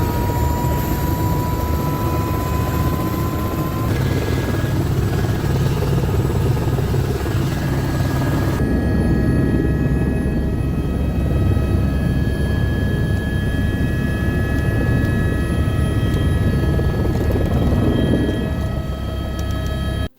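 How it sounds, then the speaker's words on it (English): Loud, continuous helicopter rotor and engine drone, heard from inside the aircraft during a flight out to a glacier near Juneau, Alaska, with steady whining tones throughout. "Took the helicopter ride out to the glacier."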